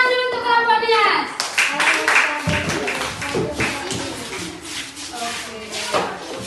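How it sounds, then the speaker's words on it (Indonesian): A classroom of children claps for a group after its presentation, bursts of scattered hand claps and shuffling under ongoing voices, with a sung or chanted passage at the start. "Tepuk tangan dulu untuk kelompok Nias."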